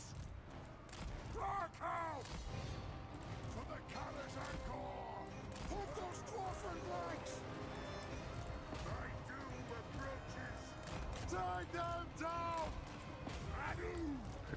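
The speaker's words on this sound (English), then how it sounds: "Let's switch our artillery to the center." Dwarf artillery fires in a Warhammer battle, with repeated booming shots and crashes scattered through a dense battle din of clattering and shouts, and a voice talking over it throughout.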